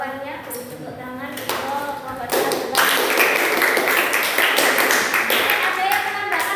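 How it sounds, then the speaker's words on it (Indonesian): Students in a biology class break into dense, steady hand clapping that follows brief talk and continues loudly for several seconds. "Beri tepuk tangan."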